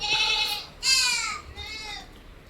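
A crossbreed goat bleats three times in a row, nearby and fairly clear, with short pauses between the calls.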